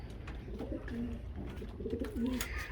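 Pigeons coo in low, throaty rolling calls, several overlapping, against a steady busy background of birds shuffling nearby in a loft.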